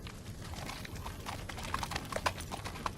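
Hooves clip-clop at an unhurried pace on a hard surface, irregular knocks over a low background rumble, moderately close, with no talking.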